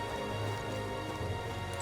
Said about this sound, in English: The rain remains as unpleasant and as oppressive as ever